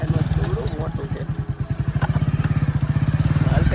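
A motorbike carries three riders slowly along a road near a forest, its engine giving a close, steady, rapid putter throughout. Someone talks over the engine noise.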